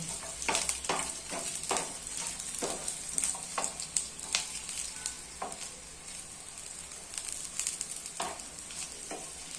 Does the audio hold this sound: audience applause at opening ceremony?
no